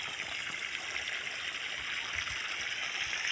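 Water runs through an irrigation channel in a farm field on a winter afternoon, a steady, even hiss of flowing water without voices.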